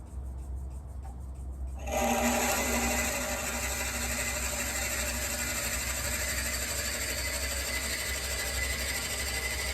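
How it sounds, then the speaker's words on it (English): After a quiet start, a drill with a 7/16 inch bit whirs up and bores steadily into wood, 7/8 of an inch deep, for a cocktail muddler, with a continuous grinding rasp for the rest of the clip. "I got a 7/16 inch drill bit and I'm going to drill"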